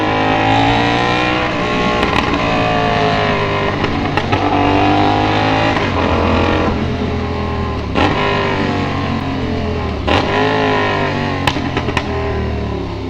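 A 450SR motorcycle with a new exhaust canister idles and revs loudly and close, a steady rumbling drone with rising and falling revs and a few sharp pops, no talking.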